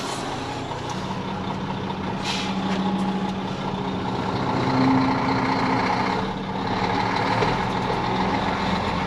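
A Sterling truck idles while building air pressure, its engine a steady low rumble with a brief swell midway and no talking.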